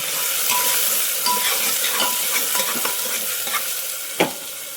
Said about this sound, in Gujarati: હવે આને થોડીક વાર ડુંગળીને સાંતળવા દઈશું